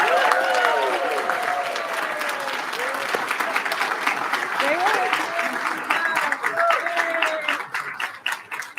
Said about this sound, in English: You're all clapping.